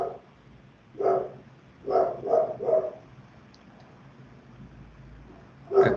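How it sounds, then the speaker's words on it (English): A dog barks in the background indoors, with a single bark, then a quick run of three, and another bark at the end, all moderately distant and muffled. "Can you hear my dog in the background?"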